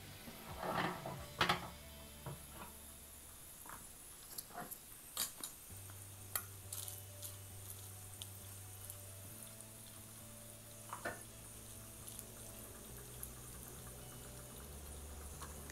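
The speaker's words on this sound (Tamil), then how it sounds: "இப்போ முந்திரி பொரிய ஆரம்பிக்குது" Cashews fry in ghee for mung dal kheer in a kitchen, giving a faint, continuous sizzle broken by occasional stirring and utensil clinks.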